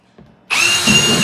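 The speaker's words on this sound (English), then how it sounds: "let's see how this drill bit does" A power drill with a new bit bores into soft plastic while building a stackable sifting litter box enclosure, a sudden loud, steady whirring grind starting after a faint lead-in and holding continuously to the end.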